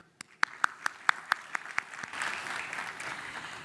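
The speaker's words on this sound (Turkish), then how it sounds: "sizleri gerçekten gönülden alkışlıyorum" Audience applause at a quality congress opens with several sharp individual claps in an uneven sequence, then swells into steady, moderately faint clapping from a seated crowd.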